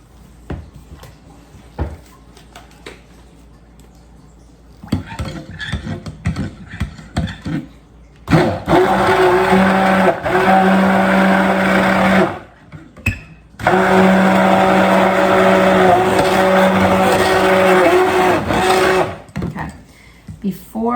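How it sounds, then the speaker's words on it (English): A stick blender whirs loudly through goat milk soap batter of oils and milk, running in two long bursts with a brief pause between, after quieter stirring and handling sounds, with a voice speaking at times. "I'm going to get my stick blender here."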